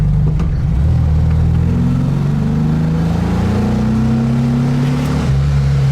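A VW Beetle engine with a Weber 34 ICT carburettor revs up in a rising, droning pitch, held high for a few seconds before dropping back, loud and close.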